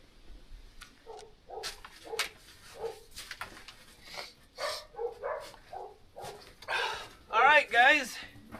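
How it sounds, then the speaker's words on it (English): Dogs bark and yip in short bursts on a cross-country ski outing in the woods, growing louder and more excited near the end, with a person talking and calling between the barks. "We'll get those dogs out before they go silly."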